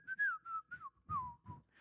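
A person whistles a lilting melody from Disney's Robin Hood: a short, quiet run of sliding notes, close and alone, with soft breathy gaps between phrases.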